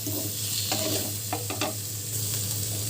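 Chopped onion sizzles with chicken pieces in a pan, a constant close frying hiss broken by a few quick stirring scrapes.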